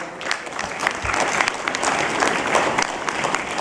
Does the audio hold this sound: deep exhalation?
no